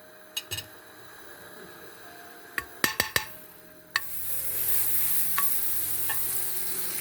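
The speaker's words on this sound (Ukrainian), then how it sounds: "Почав цукор вже плавитися. Значить, сюди я кидаю масло вершкове." Dairy butter dropped into melting sugar for caramel bursts into a loud, close sizzle after a few sharp clicks and knocks, then holds a steady bubbling hiss, no speech.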